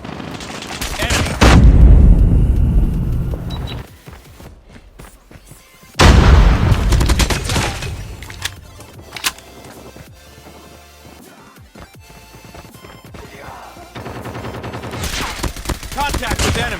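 Machine gun fire in a shooting video game comes in two long, loud, crashing bursts, then sparser scattered shots and a quieter rumbling stretch before more shots at the end.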